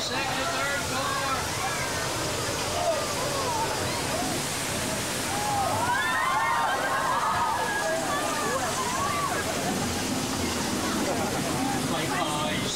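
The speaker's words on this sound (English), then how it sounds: "We dump thousands of gallons of recycled water from tanks at the top of the hill. The water crashes down the hill, careens under the bridge" Thousands of gallons of recycled water released from tanks crash down a hill and under a bridge in a staged flood effect on a 2000 Universal Studios Hollywood tram tour, a continuous rushing, sloshing torrent with crowd chatter and voices throughout.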